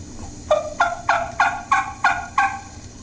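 Six evenly spaced, nasal yelps imitate a turkey hen's low early-morning call, close and clear, each short note rising then dropping off.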